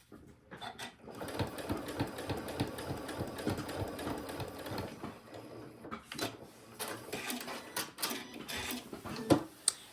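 A sewing machine stitches bias tape onto a rectangle-based sewing project, running in steady rapid bursts of needle clatter with brief pauses and a few sharp clicks near the end, close and alone.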